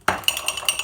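Bowlcake batter with peanut butter being whisked in a bowl: a quick run of bright metallic clinks and scrapes as the whisk strikes the bowl in a fast, uneven rhythm, close and clear.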